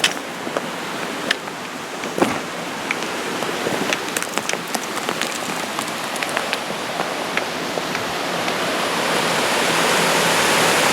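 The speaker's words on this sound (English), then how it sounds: "There's a small waterfall before the big waterfall." Steady rushing water fills the air, a broad constant splash and hiss of a small waterfall nearby, growing slightly louder toward the end.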